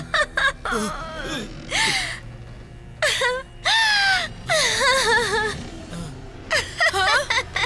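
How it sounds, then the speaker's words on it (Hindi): A cartoon character cries in a series of wailing, gasping sobs, rising and falling in short bursts with brief pauses between, close and fairly loud. "तभी अचानक उसे ब्लॉक बी स्टोर रूम से किसी के रोने की आवाज आई।"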